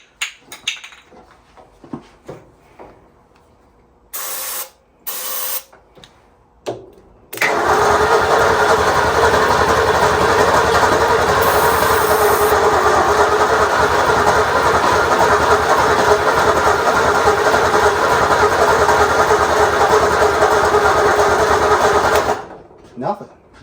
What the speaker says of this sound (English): It's cranking over pretty good for having a bad battery.